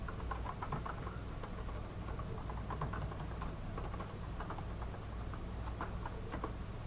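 Code typed on a computer keyboard, with a quick, steady patter of key clicks that continues throughout, close up, with no one speaking.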